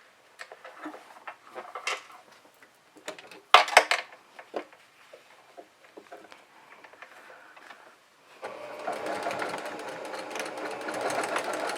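A sewing machine joins curved fabric face-mask pieces in a steady, close whirring run after a few scattered handling clicks and taps.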